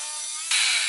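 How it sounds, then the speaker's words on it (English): Dremel rotary tool cutting into the rear bumper of a 1998 Jeep Cherokee XJ, a steady high-pitched grinding whine that jumps louder and harsher halfway through, close and continuous with no voices. "I'm going to use a Dremel."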